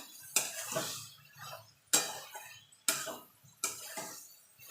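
A utensil stirs ground mustard paste into a water lily (shapla) curry, knocking against the cooking pot in four sharp clinks spaced about a second apart, each followed by a brief scraping swirl, close and clear with no speech.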